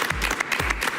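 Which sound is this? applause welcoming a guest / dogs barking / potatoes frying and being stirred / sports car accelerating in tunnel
applause welcoming a guest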